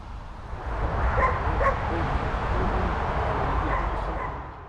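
A dog guarding an object gives a few short barks and yips, fairly close, against a steady background hum.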